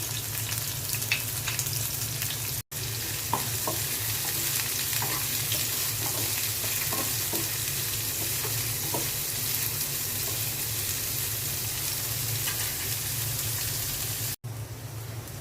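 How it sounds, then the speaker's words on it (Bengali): Chopped onion and garlic fry in hot oil in a frying pan, a steady close sizzle with light stirring clatter running throughout, no voices. "ফ্রাই প্যানে তেল দিয়ে দিয়েছি, পেঁয়াজ কুচি দিয়ে দিচ্ছি,"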